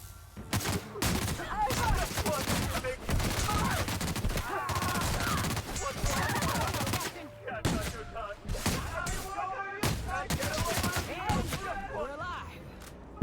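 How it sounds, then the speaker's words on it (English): Shotgun fire in The Outer Worlds video game, a rapid string of loud, close blasts with brief gaps, repeated throughout, with a voice occasionally talking underneath. "Man, this shotgun sucks."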